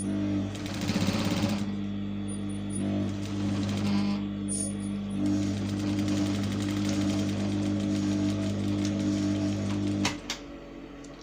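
A sewing machine runs steadily, stitching and finishing the joint in piping cord on fabric, with a continuous near hum of the motor for about ten seconds before it stops.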